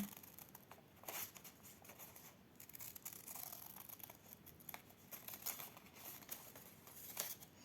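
Scissors snip paper for an appliqué clothing craft, quiet crisp cuts and rustles coming in irregular bursts, close and soft, with no speech.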